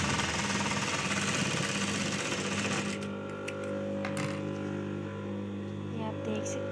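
A sewing machine stitches along the hem of a sharara, a fast steady mechanical chatter close by, first loud and dense and then lighter and more even, with a voice talking over it.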